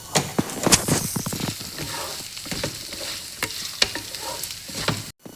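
Radish pieces stir-fried in a pan with a steady sizzle and repeated scraping, clattering stirs, close and loud, no talking, then a sudden brief cut to silence near the end.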